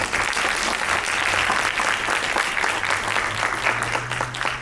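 Audience applause at a film screening event in Kissimmee, Florida, a full, sustained burst of clapping from a seated crowd that stays steady for several seconds with a faint hum underneath.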